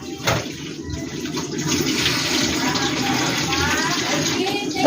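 Water poured into a frying pan of sautéed shrimp and tomato with pechay greens, a steady splashing gush running several seconds, close and fairly loud.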